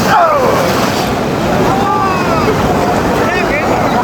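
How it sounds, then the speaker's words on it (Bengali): Steady roar of surf and wind rushing against the microphone, ocean waves washing in continuously and close by on the beach at Digha. "আর আরেকটি ঢেউ আসছে"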